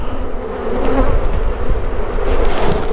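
A dense, steady drone of many honeybees buzzing close by at an open hive during honey harvest, with a continuous hum and no voices.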